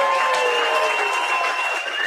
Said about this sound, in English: have a big round of applause for the District 9 Single A champions